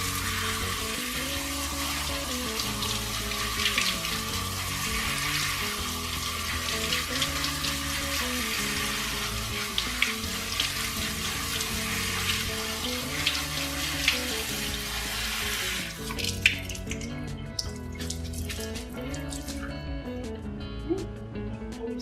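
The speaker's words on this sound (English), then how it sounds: "I'm going to give them a little rinse with some cold water just to cool the noodles down faster" Cold tap water pours steadily over cooked noodles in a kitchen sink, a continuous hissing splash that runs under background music and then thins into drips and light clatter as the flow stops.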